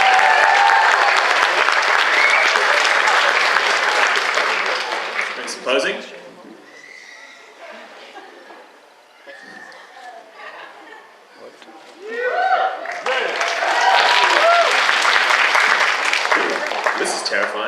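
Loud applause and cheering from a convention crowd for a cosplay contestant, breaking off for several seconds of quieter talking before the clapping swells again.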